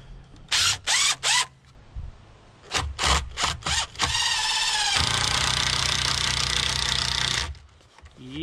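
An old impact driver on an aftermarket battery whirs in several short, sharp bursts, then runs in one long, continuous rattling whine for a few seconds before stopping, close and loud, with no talk.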